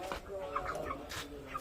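Live chickens at a market poultry shop cluck and squawk at close range. The birds are fairly quiet and mixed with shop background noise.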